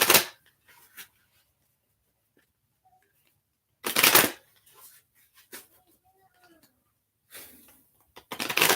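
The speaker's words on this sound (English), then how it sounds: "I hate the way these things shuffle." Cards are shuffled in a few short, loud riffling bursts separated by near silence, close to the microphone, with faint soft handling noises in between.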